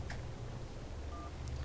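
A telephone in the video game Syberia gives a brief electronic ring tone over a low background hum.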